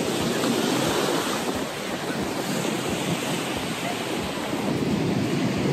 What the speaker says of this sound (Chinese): 因为今天呢海浪很大。